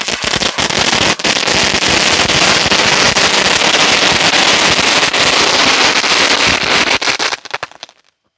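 Mount Kilauea's Eruption firework cone going off with a dense, loud, continuous crackling and popping that holds for about seven seconds and then quickly dies away, with no voices.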